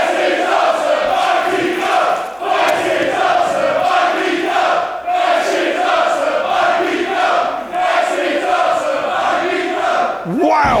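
A large wrestling crowd at an AEW-style match between Will Ospreay and Kip Sabian roars and chants continuously, loud and swelling in waves with brief dips, building to a sharp surge at the end.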